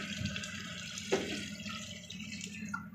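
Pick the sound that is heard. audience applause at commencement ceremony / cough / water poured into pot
water poured into pot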